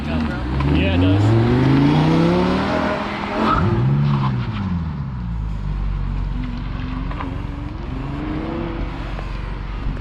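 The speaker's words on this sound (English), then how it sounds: "Chad's gonna do some test laps in the Huracan right now." A Lamborghini Huracan running test laps on a track, its engine loud and close with rising and falling revs as it accelerates and shifts, then settling into a steady drone, with people talking over it.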